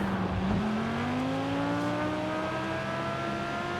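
Car engine held at half throttle during a Forza Horizon 5 race, a steady mid-pitched drone with slowly rising harmonics as the car cruises, loud and continuous with no talk.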